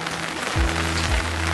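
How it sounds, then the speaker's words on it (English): Rain falls steadily on wet surfaces along a cold neighbourhood street, a constant broadband hiss with a low hum and two deep swooping tones passing underneath. "Everything is wet and it's raining."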